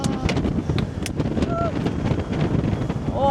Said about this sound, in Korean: 아, 바람이 장난이 아닙니다.